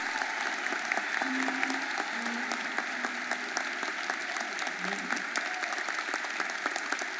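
A large crowd applauds steadily throughout a mayoral inauguration in Philadelphia, the dense clapping sustained and even from start to finish with no speech over it.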